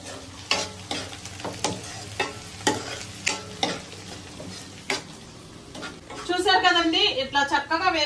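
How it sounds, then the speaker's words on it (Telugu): Mutton curry masala fries and is stirred in a pan, with repeated scraping strokes over a steady sizzle, close and moderately loud; a voice speaks near the end. "ఇట్లా చక్కగా వేపుకోవాలి మనమైతే"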